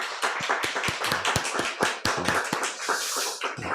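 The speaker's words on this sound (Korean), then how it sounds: "우리 박수로 우리 격려하도록 하겠습니다" A standing church congregation claps during a Sunday morning service. The claps are close, crisp and somewhat uneven, with distinct individual hand strikes in a lively, irregular rhythm and no talking.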